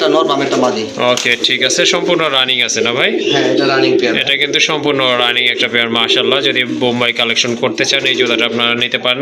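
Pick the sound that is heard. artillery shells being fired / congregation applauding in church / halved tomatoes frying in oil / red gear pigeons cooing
red gear pigeons cooing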